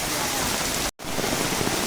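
First monsoon rain pouring in a Konkan village at Kumbhavade, Rajapur, a dense steady hiss of heavy rainfall close to the microphone, briefly cutting out for a moment before resuming.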